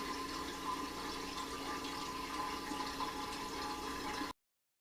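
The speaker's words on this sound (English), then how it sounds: "I'm going to siphon all the way to the other carboy." Wine steadily siphoning through a tube into a second carboy during racking of an Eclipse Nocturnal kit, a continuous close trickling and gurgling wash of liquid that runs evenly, alone without voices.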